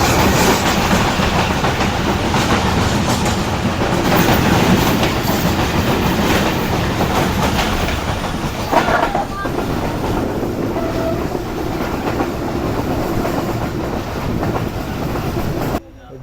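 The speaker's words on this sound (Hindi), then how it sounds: "तो ये कदर ट्रेन आ रही है हमारे सामने से, होपफुली ये मालगाड़ी होगी।" A train rolls past close by on the line near Khairpur railway station, its loud, continuous rumble and wheel clatter filling the air steadily before cutting off abruptly at the end.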